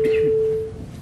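Synthesized pure tone holding one steady pitch, its volume swelling and then fading over about a second, with no speech.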